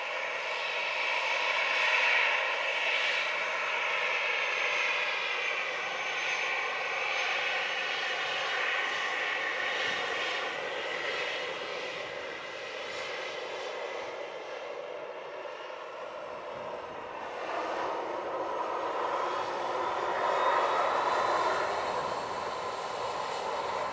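An American Airlines jet, flight 2943, takes off from runway 07 at Montego Bay, its engines roaring loud and steady throughout, with a broad rumbling whine that shifts in tone as it accelerates away.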